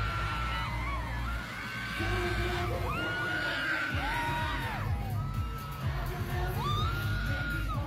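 Loud, continuous screaming and cheering from a large crowd at a concert finale, with high-pitched shrieks rising and falling over a dense roar.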